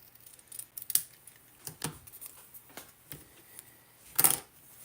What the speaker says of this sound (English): Now I'll just take my paper snips and I'm going to cut to the right side of the dot.